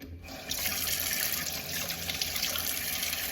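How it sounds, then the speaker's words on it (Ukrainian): Vegetables rinsed under a steady stream of running tap water in a sink, a loud continuous splashing rush that starts abruptly after a brief quiet moment and holds without pause. "треба перш помити овочі"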